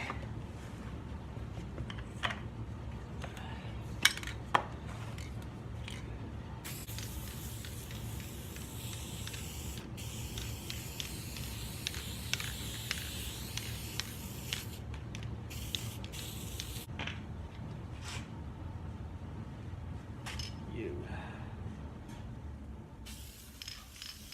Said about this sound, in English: So we're going to spray the side ones with high tack.